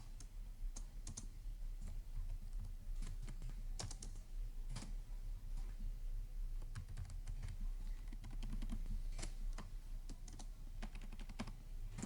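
Rapid, irregular clicks of fingers typing C code on a computer keyboard, steady key presses spread through the whole stretch with no talking over them.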